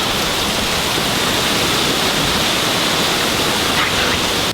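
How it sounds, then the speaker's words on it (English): A loud, steady rush of wind-driven water sheeting across a lake in a storm, broadband and unbroken like heavy rain or spray. "look at that water sheeting across the lake"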